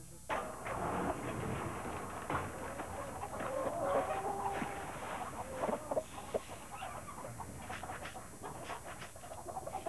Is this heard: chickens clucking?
yes